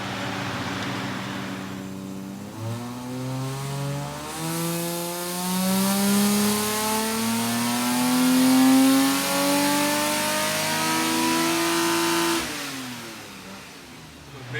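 A tuned car running E10 fuel revs hard through a tune pull, the engine note climbing steadily in pitch for about ten seconds before dropping off, loud and close with no voices.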